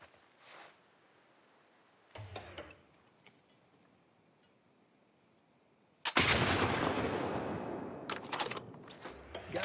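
A rifle shot aimed at a red sign in The Last of Us Part II, preceded by a couple of faint distant pops, then a loud sharp blast at close range with a long decaying tail.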